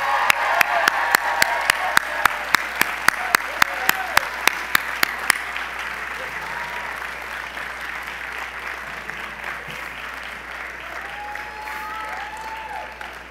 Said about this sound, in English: would you please join me in one round of applause